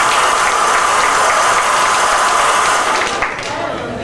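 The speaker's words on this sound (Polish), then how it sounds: "Bierze pieluszki, duże brawa." Wedding guests clap in a loud, dense, continuous burst, close and filling the room, easing slightly toward the end.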